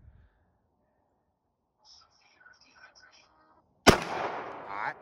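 A single gunshot at an outdoor shooting range cracks loudly and rings out over about a second, preceded by faint murmured voices.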